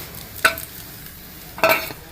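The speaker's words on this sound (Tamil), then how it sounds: "இதை வந்து நல்லா கிளறி விட்டுட்டு, இப்போ வந்து மட்டன் சுக்கா ரெடி ஆகிக்கிட்டு இருக்கு." Mutton chukka is stirred in an iron pan, giving two short metallic scrapes about a second apart over a faint, low sizzle.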